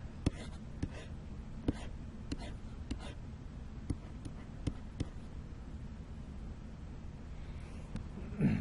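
Pen or pencil on paper while working a statistics table, a run of light scratches and sharp taps spread over several seconds, close and quiet, with no talking.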